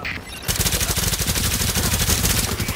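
Sustained rapid gunfire erupts after a brief quiet start, a loud, continuous automatic burst that rattles on without pause.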